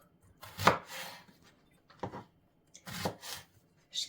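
A large eggplant being cut with a knife, three or four separate crunchy slices with short pauses between them, close and clear with no talking.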